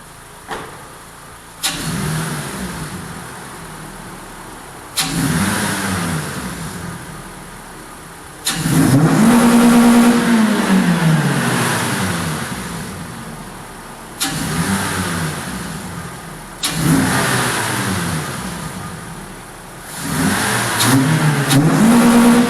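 Toyota Celica GT-S with a cold air intake, its engine revved repeatedly from idle, each loud sweep climbing and falling back in a series of separate pulls, up close with no talking.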